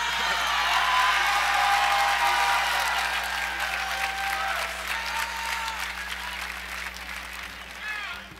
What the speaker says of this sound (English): Can we give Will and Anna another round of applause